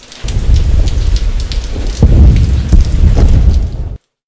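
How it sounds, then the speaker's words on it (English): Steady heavy rain pours alongside rolling thunder, a dense continuous hiss with low rumbles that ends abruptly. "It's drizzling! I have to leave now before the rain increases."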